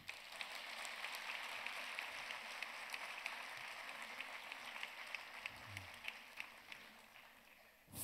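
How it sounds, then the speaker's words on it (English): Sustained applause from an audience, a dense patter of many hands clapping steadily throughout, heard from a moderate distance. "I think he deserves a better clap than this."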